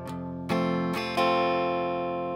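Acoustic guitar strumming a simple two-beat pattern: a sustained chord followed by three sharp strummed attacks in quick succession, each ringing out brightly and close, with no voices.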